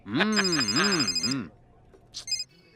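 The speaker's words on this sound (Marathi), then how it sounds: "मुनीर साहेब आप गलती से मुझे फोन कर रहे" A telephone ringtone playing a loud, melodic tune with a sung voice for about a second and a half, then cutting off. A brief chime follows after a short pause.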